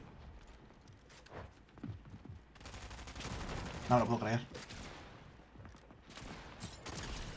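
Video game gunfire in Fortnite, bursts of shotgun and rapid shots mixed with in-game footsteps, moderately loud, with someone talking excitedly over the action.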